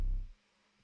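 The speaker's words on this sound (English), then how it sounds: "And this is the one and only 808." A single 808 bass drum hit from a music production track, a deep, booming low tone that fades within about a third of a second.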